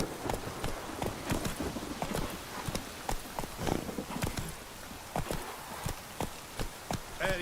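Roach's hooves in The Witcher 3 beat out a steady, fairly loud run of clip-clop strikes on the ground, continuing at an even pace throughout without talk.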